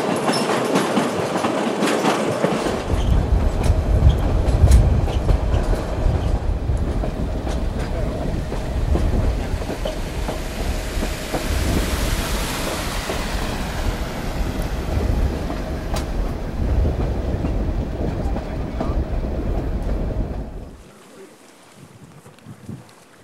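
A small White Pass & Yukon passenger train rolls steadily along a lakeside line, wheels clacking over the rails for about twenty seconds before the sound drops away abruptly into quiet.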